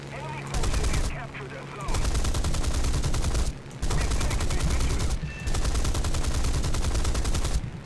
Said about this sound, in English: I've been very conservative with my cannons in the past, and I'm just not going to do that right now.